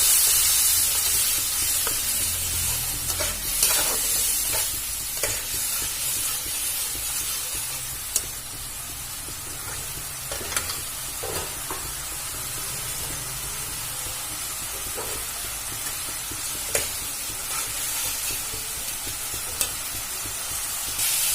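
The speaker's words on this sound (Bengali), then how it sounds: "ভালো করে নাড়াচাড়া করে ভেজে নেবো" Chili powder and turmeric paste made with salt and water frying in a pan for a fish-head and potato dish, giving a long, steady close sizzle and hiss broken by repeated scraping stirs.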